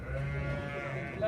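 Sheep bleating in a crowded livestock market, a steady layered chorus of animal calls with a clearer bleat rising near the end, close and continuous against a busy background.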